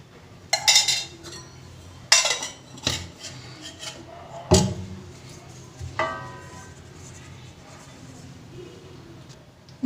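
A metal spoon clinks and scrapes against a plate while ghee is spread over it in a home kitchen, several sharp knocks and rubbing sounds at close range, with no talk.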